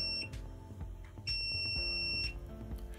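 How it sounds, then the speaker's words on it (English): A Schlage AD-Series electronic door lock beeps briefly, then a longer high steady reset tone about a second long, over a faint low background hum. "The green LED and long beep indicates that the lock has now been reset."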